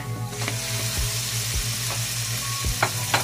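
Chicken seasoned with brown black pepper sizzles steadily in a pan, with a constant frying hiss, a low hum and occasional scraping stir strokes.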